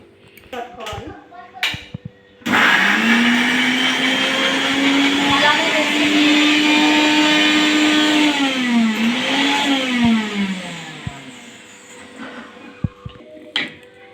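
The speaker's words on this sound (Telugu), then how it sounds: "ఫస్ట్ కరివేపాకు అయితే మిక్సీ అయితే పట్టేసి పెట్టుకోవాలి" A kitchen mixer grinder grinds curry leaves, its motor starting abruptly into a loud, steady whine that shifts pitch as the load changes, then winds down after about eight seconds, with faint voice and clatter at either end.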